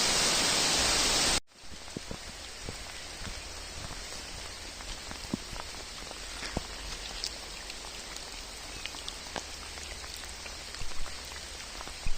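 After a brief loud burst, heavy rain settles in over the Carpathian mountains, a constant wash of splashing drops with scattered louder patters close by.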